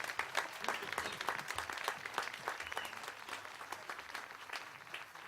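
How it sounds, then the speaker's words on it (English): Applause from a modest audience at an outdoor community concert, a steady patter of individual claps at moderate distance, continuing evenly without speech. "a nice round of applause for Cindy Russell and everyone at Arch Jubilee and Mount Cranmore"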